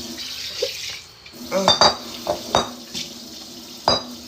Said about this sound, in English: let's rinse this bowl out